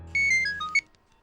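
A phone ringtone chirps in a short melodic run of electronic beeps, fairly loud and close, over a low hum in a tense courtroom-drama setting.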